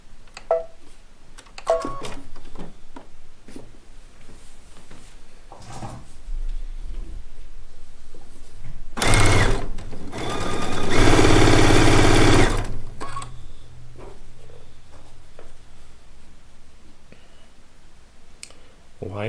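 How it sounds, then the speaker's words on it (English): A sewing machine chain-pieces quilt pieces, giving scattered clicks and handling noises followed by a loud, steady run of rapid stitching, with a voice talking before and after the run. "I'm going to bring the first 2 pieces of each row and chain piece them together"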